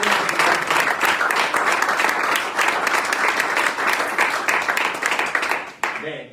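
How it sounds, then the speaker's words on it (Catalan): Audience applause at a tribute to Catalan Olympic cyclists from Tokyo 2020, a loud sustained round of clapping from many people that fades out near the end, followed by a brief voice. "un aplaudiment"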